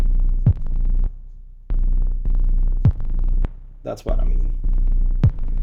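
A Make Noise Dark Easel modular synthesizer patch plays a pulsing, throbbing low tone in repeated bursts with gaps between them, close and loud, while a person speaks briefly over it.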